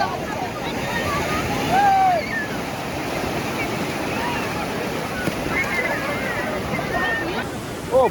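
Surf washes continuously onto the sand at Digha beach, a broad rushing roar mixed with wind buffeting the microphone, with faint distant voices and cries scattered through it.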